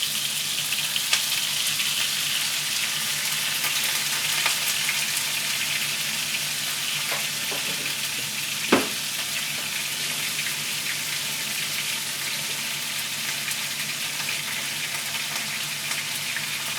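Pork sizzles steadily in a pan as yaki udon is cooked, a dense even crackle with occasional small pops and a brief knock of a utensil near the middle.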